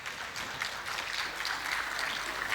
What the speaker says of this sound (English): A round of applause again for